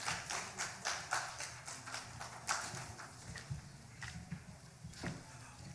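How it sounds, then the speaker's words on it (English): An audience applauds to welcome a speaker onto a stage, a steady stream of close, crisp claps with a few sharper hits, and no voices over it. "with a round of applause, please help me welcome Mr. Akshay Tiku right here on the stage"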